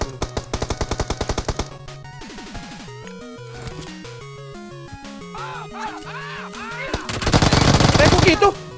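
Rapid bursts of PUBG Mobile gunfire crack in quick rhythmic volleys, mixed with game sound effects and musical tones, ending in a loud sustained barrage.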